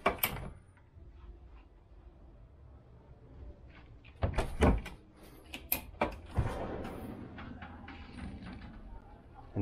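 Fridge and twin pull-out freezer drawers in a yacht galley slide and thud, a quiet opening clunk followed by several sharp latches and knocks, with a faint voice nearby.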